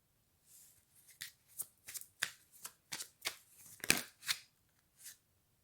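Tarot cards are shuffled in a quiet room, a series of about a dozen quick crisp riffles and flicks in irregular bursts, close and clear with nothing else heard.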